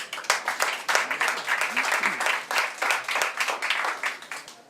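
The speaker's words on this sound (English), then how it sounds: "Let's make a round of applause to Rein Lemberpuu." Audience applause for Rein Lemberpuu at a Playtech startup talk: dense crowd clapping sustained at steady loudness throughout, with individual sharp claps standing out and a faint voice or two underneath.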